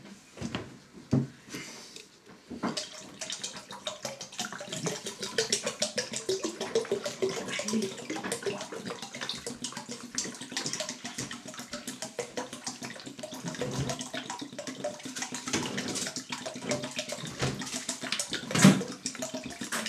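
Water gushes steadily from a tap into a container, filling past the 9 litre mark for ginger beer, a continuous rushing pour with a few knocks and clunks along the way.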